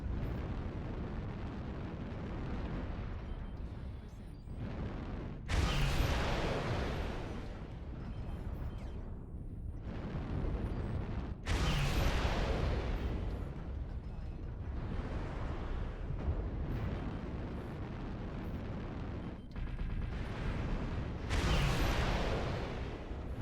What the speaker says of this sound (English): I'm gonna die from this missile salvo here.